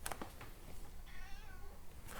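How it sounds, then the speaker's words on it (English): A house cat meows nearby, a short plaintive call with a wavering pitch, set against steady low background noise from a computer game. "The cat's meowing at me."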